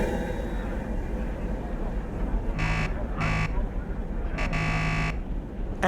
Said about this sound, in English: I can give the buzzer to the guard